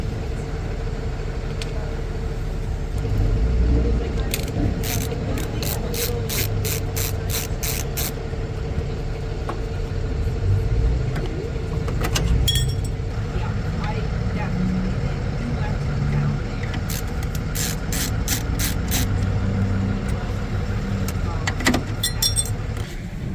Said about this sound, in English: the last one we need to take out to get the access to this guy is this little security Torx bit.